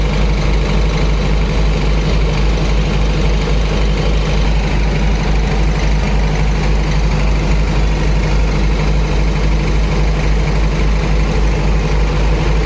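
A Kirloskar diesel generator engine idles steadily during its cool-down, a constant low droning hum with no change in pitch or rhythm throughout, close and continuous without voices.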